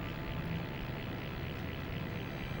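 Helicopter in the Rayman PS1 video game, a low steady droning engine hum with a dense rumbling texture, continuous and fairly faint with no talk over it.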